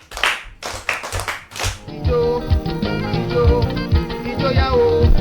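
Four loud, separate hand claps for a child at a children's storytelling gathering, close and crisp, then singing with music starts and carries on.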